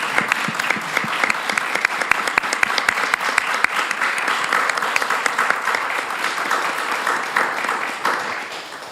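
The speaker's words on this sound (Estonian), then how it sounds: "Nii, aga aplaus" A seminar audience applauds together, with sharp, dense clapping that holds steady for several seconds before tapering slightly toward the end; no talk over it.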